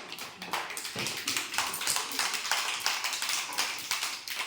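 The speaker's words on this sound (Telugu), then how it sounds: "క్లాప్స్ కొట్టండి అందరూ ఒకసారి." Children in an anganwadi classroom clap together in a steady run of sharp, loud, fairly fast claps lasting several seconds, with no talking over them.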